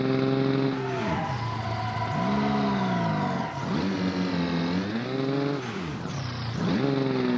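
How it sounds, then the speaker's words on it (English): A carbureted car engine in a driving video game revs up and down in long sweeping pulls, loud and raspy with strong intake roar, rising and falling several times without pause. "Sounds very carburetor-y. Lots of air intake sounds."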